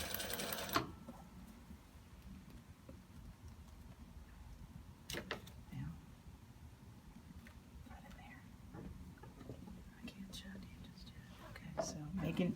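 Sewing machine stitching an invisible zipper with a special foot holding the zipper teeth, a quiet steady mechanical whir running throughout with soft whispered talk over it.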